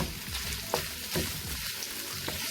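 Smoked turkey frying in canola oil in a pot, with a continuous moderate sizzle and crackle plus a few brief stirring knocks.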